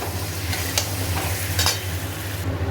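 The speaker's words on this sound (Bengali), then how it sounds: "আগে এটাকে একটু ভালো করে কষিয়ে নিই" Chicken with spices stirred and fried in a pan: a continuous loud sizzle broken by a few sharp scrapes of the spoon against the pan, close up and with no talking.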